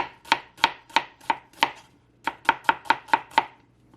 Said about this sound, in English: Okay, I got to slice up an onion.